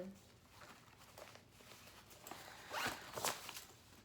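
Zipper on a small bag being opened during an unboxing, one short quiet zip after soft rustling of handling, close by.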